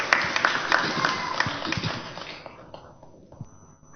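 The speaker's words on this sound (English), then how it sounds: "give him a round of applause" A small audience at a church gathering claps briefly, the scattered applause fading away over a few seconds.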